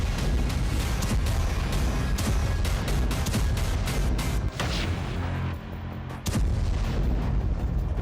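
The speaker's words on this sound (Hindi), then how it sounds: "रूस की एक मिसाइल खार्किव सिटी सेंटर के शॉपिंग कॉम्प्लेक्स पर गिरी और ये तस्वीरें कार के डैश कैम में रिकॉर्ड हो गईं।" Russian missile strike explosions on a shopping complex in Kharkiv city centre, caught on a car dashcam: continuous loud, dense booming and crackling blasts fill the whole stretch, with a brief dip before the roar resumes.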